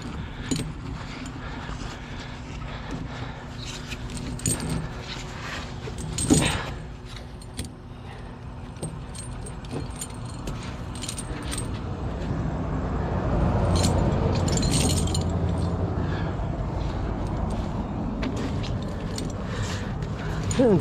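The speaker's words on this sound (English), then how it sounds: "And stuff the chain under the best I can." Snow chains on a tire at the front axle being draped and stuffed under by hand, giving off scattered metallic clinks and jangles close up, with a vehicle running in the background and a louder stretch of rumble midway.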